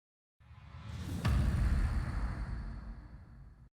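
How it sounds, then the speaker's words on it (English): A rising whoosh swells up, then a sharp, heavy impact hits and leaves a deep rumbling tail that slowly fades out, an impact effect in a progressive house track. "Then here we have an impact"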